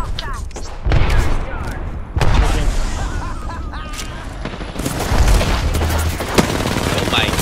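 Enemy gunfire in a PC shooter game, dense rattling bursts and heavy thumps recurring throughout, with several loud volleys over a constant noisy battle background.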